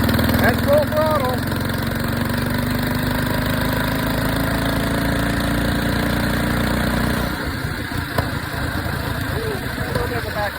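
A stock Husqvarna engine fitted with a swapped PZ19 carburetor runs at full throttle, a steady close-up buzzing drone that holds for about seven seconds before the tone drops and roughens as the throttle eases.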